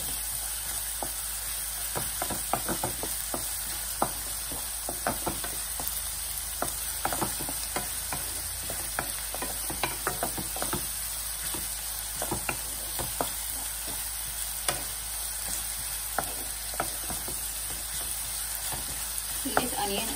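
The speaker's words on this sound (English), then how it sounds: "And immediately we'll add this ginger garlic paste. Cook this for a minute." Ginger garlic paste fries in hot oil with asafoetida in a pan for moong dal kachori, giving a continuous close sizzle and crackle punctuated by frequent stirring scrapes and spatters over a low hum.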